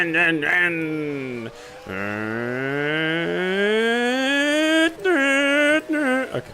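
A person imitates a race car engine with their voice, rising whines broken by brief pauses like gear shifts, close and fairly loud.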